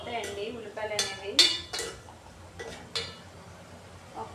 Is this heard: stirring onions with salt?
yes